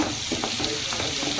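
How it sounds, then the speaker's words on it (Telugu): Onions fry in a pan until browned, with tomatoes about to go in, giving a brief, continuous close sizzle with soft stirring scrapes. "ఇలా బ్రౌన్ కలర్లోకి వచ్చేవరకు ఉల్లిపాయలు వేయించుకోవాలి"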